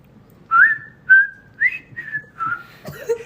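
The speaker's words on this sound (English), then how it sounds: "I thought we were all going to whistle together." About six short whistled notes, some sliding up and others held, come in a loose, hesitant melody that is close and clear against a quiet background.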